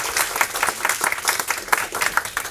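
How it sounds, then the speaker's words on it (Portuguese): An audience at a coaching talk gives a round of applause, dense and continuous clapping from many hands at a fairly loud, close level with no voices. "Uma salva de palmas."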